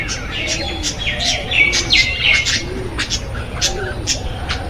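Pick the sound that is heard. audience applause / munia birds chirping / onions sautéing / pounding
munia birds chirping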